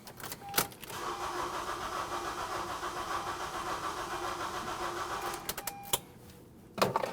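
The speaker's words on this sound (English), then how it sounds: "start your vehicle" A 2012-2016 Honda CR-V with a 2.4L four-cylinder and its 15 amp fuel pump fuse pulled starts with a quick crank, idles steadily for about five seconds, then stalls and goes quiet before a faint clunk.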